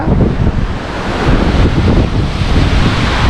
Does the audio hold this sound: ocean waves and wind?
yes